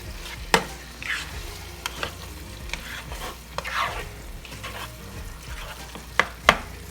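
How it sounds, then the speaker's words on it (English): Spiced taco meat bubbling hard in its liquid on high heat, a steady sizzle broken by several sharp spoon knocks and stirring scrapes, up close with no talking. "Now you sort of let it boil a little bit."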